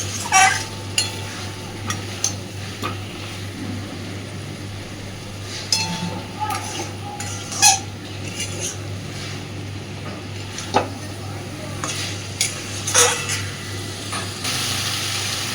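Cashews and melon seeds are stirred through potato dum masala in a pan, with spatula scrapes and light clinks at irregular intervals over a steady low hum.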